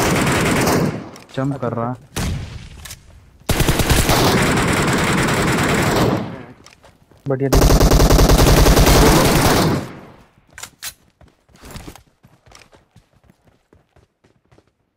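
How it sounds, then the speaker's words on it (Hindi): Heavy bursts of automatic gunfire from the BGMI battle royale game come in several long, loud volleys with short gaps, then trail off into scattered footsteps and faint sounds, with players talking in between. "अरे बच्चा क्यों फायरिंग दे दी यार"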